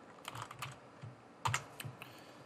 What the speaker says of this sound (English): if I can type here.